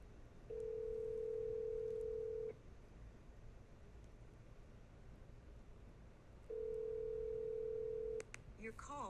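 An outgoing phone call rings back with two steady, long tones about four seconds apart, clear and close over a low background rumble and quiet voices.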